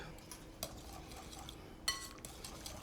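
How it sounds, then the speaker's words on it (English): Spoon stirring a macaroni salad dressing of mayonnaise and milk in a bowl, soft scraping with a few light clinks, close and quiet. "Stir that around. You don't want it too thin."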